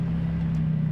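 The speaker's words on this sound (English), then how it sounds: "It's a Can-Am HD7 Outlander Pro, and it really rides really well." Can-Am HD7 Outlander Pro quad riding off-road on an Arizona OHV trail, its engine a steady low drone with a strong constant hum, loud and close throughout the second.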